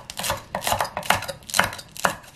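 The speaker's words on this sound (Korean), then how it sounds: "그 양파 작은 건 한 반 개 정도 넣고요. 채를 썰어서." A knife slices a small onion into strips on a cutting board, five crisp evenly spaced chops at close range with nothing else heard.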